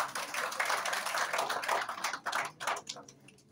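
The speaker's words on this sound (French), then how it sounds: "Ça s'applaudit encore, s'il vous plaît" An audience at a student competition event claps, a thick run of many hands that thins out into a few scattered claps before it stops.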